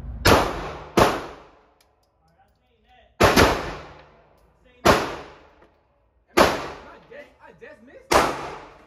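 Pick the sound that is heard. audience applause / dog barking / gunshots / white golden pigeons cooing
gunshots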